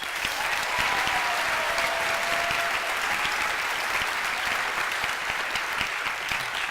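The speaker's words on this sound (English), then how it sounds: "let's give everyone who does all that hard work a big round of applause" Sustained audience applause fills a church event, a dense steady clatter of many hands clapping at even loudness throughout, with faint cheering mixed in and no speech on top.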